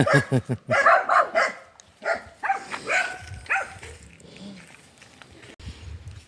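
Several dogs bark outdoors in a rural yard. Bursts of quick, overlapping barks come at first and thin out into scattered yips and whimpers as the barking dies away.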